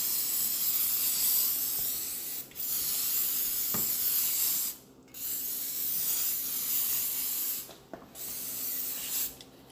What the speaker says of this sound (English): And then you just spray it around.